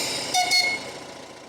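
Triton, a 1932 miniature railway locomotive on Scarborough's 20-inch gauge North Bay Railway, gives two short whistle toots over a steady mechanical background, fairly close and moderately loud.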